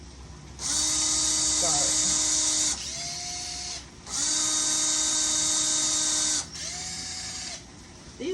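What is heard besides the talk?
power drill with Phillips bit loosening hurricane shutter screws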